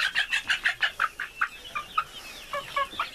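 Dominant-breed chickens about two months old, with a rooster among them, clucking in a quick rhythmic run of close, loud calls that slows into scattered clucks.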